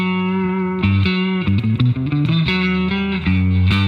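Electric guitar with distortion and effects plays a sequence of sustained notes stepping through major-scale intervals, loud and alone, with brief quick note changes in the middle.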